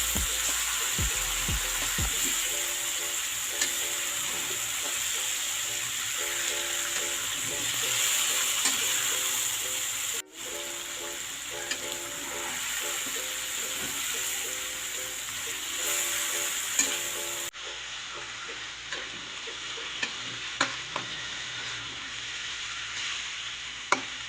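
Chicken frying with oyster sauce in a pan, a continuous close sizzle that runs for over twenty seconds with occasional clinks and stirring scrapes, steady in loudness and without talk.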